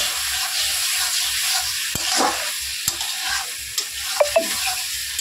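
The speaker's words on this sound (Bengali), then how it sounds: "একটুখানি করে জলের ছিটা দিয়ে কষাবো, ভালো করে কষিয়ে রান্না করবো।" Egg curry sautéing in a pan with small splashes of hot water, a steady loud sizzle and hiss broken by a few sharp spoon scrapes and taps, close up with no talk.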